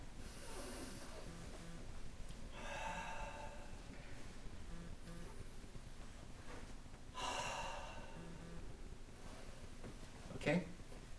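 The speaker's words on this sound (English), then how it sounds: "Now you breathe in here." During a qigong exercise, a person takes slow, audible breaths in and out close by, a soft airy rush repeated a few times over a quiet room, with a brief voice near the end.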